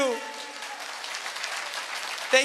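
Steady applause from an audience, a dense wash of clapping that continues throughout at an even level.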